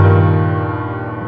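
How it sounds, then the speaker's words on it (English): A piano chord struck with the left hand for a song rings out loud and sustained, then slowly decays over about a second, with no voice. "So again, it's going to sound like this with the left hand."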